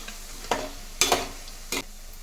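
Boondi fries in oil while a ladle stirs through it: quiet, soft sizzling broken by three or four brief, sharp scraping stirs, close and alone without talk.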